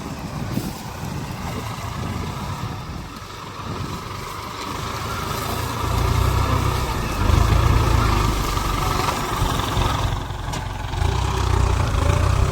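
A heavy diesel tractor engine idles steadily nearby, its low chugging rumble swelling slightly louder partway through, with no talk.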